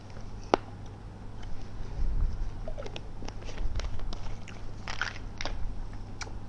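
Someone chews processed black seed (habbatus sauda) close to the mic, with a run of crunchy, irregular bites and chewing clicks over a low steady hum.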